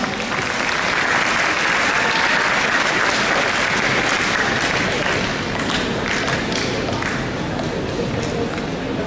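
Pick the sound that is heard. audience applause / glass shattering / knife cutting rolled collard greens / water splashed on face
audience applause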